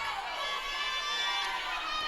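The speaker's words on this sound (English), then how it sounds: "We hear some teammates cheering on their fellow swimmers down there in that back zone" Teammates cheer on swimmers from the back of an indoor pool during a high school swimming and diving meet, a steady, distant wash of crowd shouting and cheering with no break.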